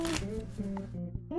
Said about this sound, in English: I shuffle pretty aggressively, and they shuffle great.